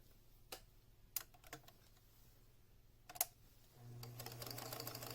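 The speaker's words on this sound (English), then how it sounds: "So I'm going to sew right up to the line." A sewing machine stitches a fabric seam on an instrument bag, first with a few faint taps and clicks, then a steady, quiet whirring run of stitching near the end.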